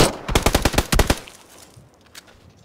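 A rapid burst of automatic gunfire in a shooter video game rings out loud and close, about a dozen sharp shots in quick succession, then a couple of faint distant pops.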